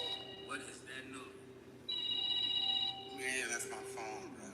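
Mobile phone ringtone playing a sequence of clear electronic melodic tones at moderate volume, sustained notes shifting pitch over a few seconds, with a voice briefly heard near the start.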